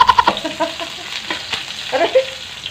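Hot oil spattering in a pan while cooking chicken adobo with onion, sharp crackling pops that burst in a quick cluster at the start, then scattered sputters over a faint background.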